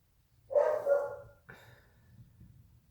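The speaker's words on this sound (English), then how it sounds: "my dogs might bark for a minute because my husband's coming home" Dogs bark at home as someone arrives, two separate barks about a second apart, the first a loud double burst and the second shorter, with nobody speaking.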